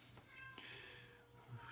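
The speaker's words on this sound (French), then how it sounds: "Ça, c'est mon chat." A domestic cat meows briefly and close by over a steady low background hum, with no talking.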